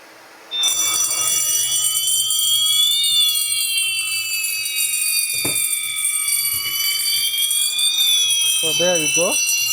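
Hikvision conventional fire alarm triggered by heat, sounding as a loud continuous electronic tone with a slowly wavering pitch that starts abruptly and holds steady, with brief clicks and short background noises along the way.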